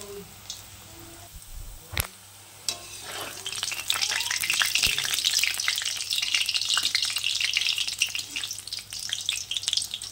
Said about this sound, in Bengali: এই দেখো কত সুন্দর ভালো মতো হয়ে যাচ্ছে ভাজা